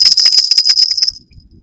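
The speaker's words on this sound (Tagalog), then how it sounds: "Ito nga pala yung bell. Ganito yung tunog niya." A small bell on a fishing rod bite alarm rings rapidly for about a second, a bright close tinkling rattle that fades out, with faint background noise after.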